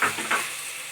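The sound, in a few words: tomatoes added to hot pan, sizzling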